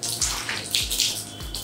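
Water is sprayed against a gypsum-plastered wall during a washing test, a steady close rushing splash with rhythmic surges, heard alone.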